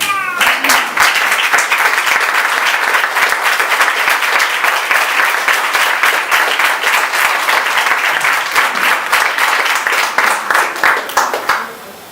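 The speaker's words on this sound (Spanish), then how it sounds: "Aplaude al Señor." A church congregation claps steadily for about twelve seconds, dense and loud, with a few voices mixed in, tapering off at the end.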